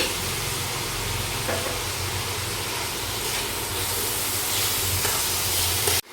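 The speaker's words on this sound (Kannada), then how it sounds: "2 ಈರುಳ್ಳಿನ ಕಟ್ ಮಾಡ್ಕೊಂಡಿದ್ದೀನಿ ಸಣ್ಣಕ್ಕೆ, ಅದನ್ನು ಫ್ರೈ ಮಾಡ್ಕೋಬೇಕು." Two finely chopped onions fry with cumin and salt in a pan, a dense, even sizzle and hiss heard up close without pause until it cuts off abruptly, with no voices.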